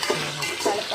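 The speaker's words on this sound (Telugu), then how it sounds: "ఒక 2 టైమ్స్ కలిపితే అవి మగ్గుతాయి బాగా" Spoon stirring chopped carrots, beans, potatoes and onions in a pan for vegetable biryani curry, a brief close scraping shuffle with soft sizzling beneath, no talking.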